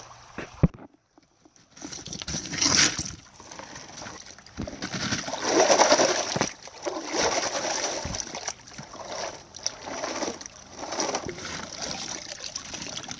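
Dug creek gravel is swirled and sloshed in a gold pan in creek water, giving irregular splashing and washing bursts with brief pauses, close by and fairly loud, with faint birds in the background.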